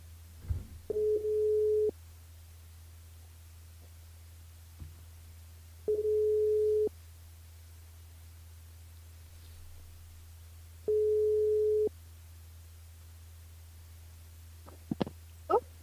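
A phone line rings out in repeated busy-signal-style tone bursts, three steady one-second beeps about five seconds apart over a low hum, while calling a radio listener during a live broadcast.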